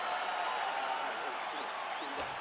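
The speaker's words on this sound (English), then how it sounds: "the crowd voicing its appreciation after that round" A large crowd at UFC 261, Kamaru Usman vs Jorge Masvidal, applauds and cheers steadily after a round, a dense wash of clapping and voices that holds for a couple of seconds.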